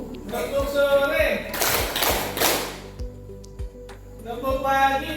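A class of children claps in unison in a tepuk clapping game, with a loud burst of applause-like claps in the middle and scattered single taps around it while voices chant.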